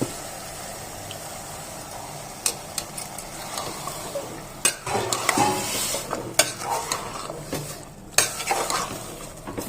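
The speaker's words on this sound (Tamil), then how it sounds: "வதக்கிட்டு இப்போ மட்டனை நம்ம சேர்த்துக்கலாம்." Mutton pieces being sautéed in a pan with ginger, garlic, onion and tomato, a soft continuous sizzle broken by repeated scraping stirs and clinks of a spoon against metal, close by with no speech.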